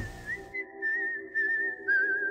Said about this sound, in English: It's a willow whistle, made from one piece of willow.